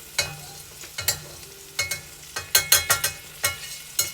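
Noisette of butter sizzling in a hot pan, with a series of sharp crackling bursts and scraping stirring strokes over a steady low sizzle, close and fairly quiet.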